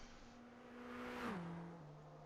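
A safety car in a racing video game drives down the back straight of the China round, its engine note a steady droning whine that rises, then drops in pitch as it passes, moderately loud and alone.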